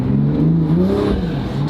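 A Toyota Supra mk5 fitted with a new exhaust and intake revs loudly up close, its engine tone rising and falling with a thin turbo whistle riding above it, with no talking.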